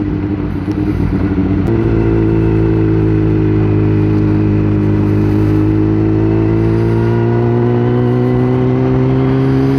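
Motorcycle being ridden along a road, a loud steady engine drone with a shift in pitch early on, then smoothly climbing revs, heard close from the rider's position with wind noise and no talk.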